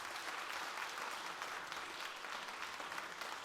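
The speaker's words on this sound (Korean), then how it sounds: "자, 우리 박수합시다." Steady, dense applause from a church congregation at a New Year prayer meeting as children receive gifts, even and continuous throughout.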